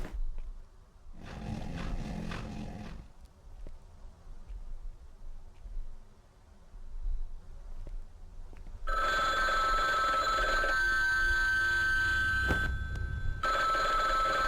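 Telephone bell ringing in a game setting, with a first loud burst of ringing, a quieter stretch, then a long loud continuous ring that cuts off briefly and resumes near the end.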